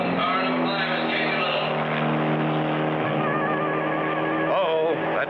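Cartoon race cars roar around a track in a close race, a loud continuous engine drone with shifting pitch and a brief whine near the end, with talk over it.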